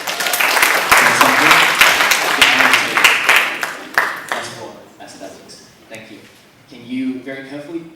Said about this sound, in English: Everybody just give Alex a big round of applause